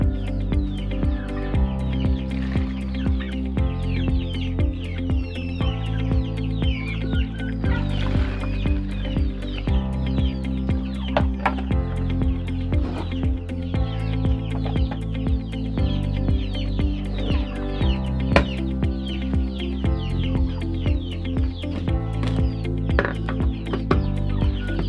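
Rhode Island Red and Jersey Giant chickens with young chicks clucking and cheeping in a flock, a busy continuous chorus of overlapping calls close by, no talk.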